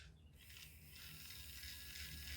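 A small spiderbot toy's tiny electric motor runs on 2.5 volts, giving a steady, faint mechanical whirr with a light ratcheting gear rattle throughout, alone without talk.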